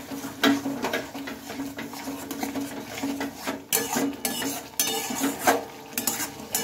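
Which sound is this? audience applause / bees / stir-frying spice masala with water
stir-frying spice masala with water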